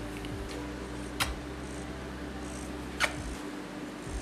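A cat purrs softly and steadily up close, a low continuous rumble with a couple of faint clicks in the background.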